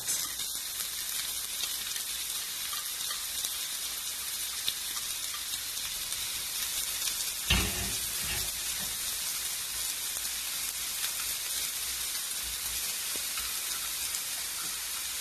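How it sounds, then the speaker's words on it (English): Shallot sizzling in hot oil in a pan while cooking dry egg noodles, a constant bright hiss with fine crackle, steady and fairly close, briefly disturbed by a soft thump midway. "we're going to add in the shallot"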